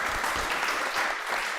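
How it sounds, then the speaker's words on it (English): A congregation at a church celebration service applauds two team members, a dense, even burst of clapping that carries on throughout. "Can we give them a round of applause"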